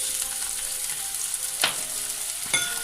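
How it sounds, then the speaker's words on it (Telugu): Sliced capsicum frying in a pan for mushroom chilli, a steady close sizzle with two sharp bursts of spatter as pieces hit the hot oil. "స్లైసెస్లా కట్ చేసి పెట్టుకున్న క్యాప్సికమ్ వేస్తున్నానండి"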